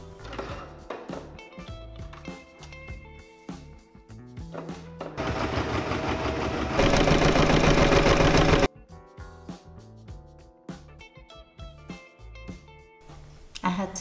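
A sewing machine stitches ribbon onto a tea cosy in a steady, close mechanical whirr of needle strokes that runs for a few seconds. Brief clicks and handling noises come before and after it, and a voice speaks at times.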